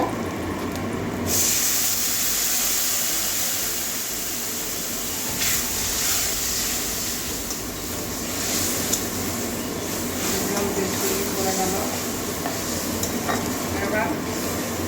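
Spices with Kashmiri red chilli powder fry in a pan with a steady, loud broadband sizzle, punctuated by occasional stirring scrapes; the spices are being sautéed for a Bengali katla fish head and pui shak curry, with no talk.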